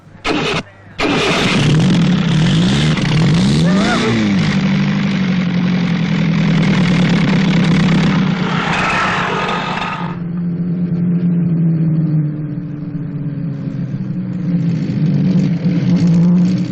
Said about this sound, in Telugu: Engine first class. కానీ కొంచెం మోత వస్తుందండి, భయపడద్దు.